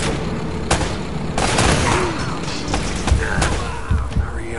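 Dense gunfire in the video game Uncharted, a steady barrage of overlapping shots and impacts with thumping booms, loud and close over a busy background.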